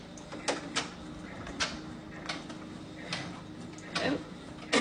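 Steady whir of a PR 655 embroidery machine stitching flat stitches on a hat at speed 700, with faint rhythmic tapping and soft ticks over a constant mechanical hum.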